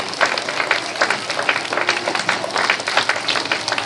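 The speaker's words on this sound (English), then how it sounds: "Let's give them a round of applause" A school assembly audience claps in a steady round of applause, many hands close and lively for the whole stretch, with no talk over it.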